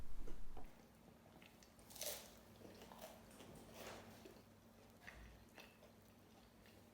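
A bite is taken from pizza bread garnished with Parmesan cheese, giving soft, close crunches with a couple of distinct crisp bites amid quiet chewing.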